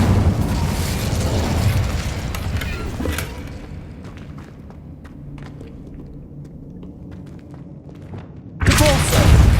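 The Incendio fire spell in Hogwarts Legacy on PS5 gives a loud burst and rumbling whoosh, then fades to quieter scattered clicks and thumps before another loud surge at the end.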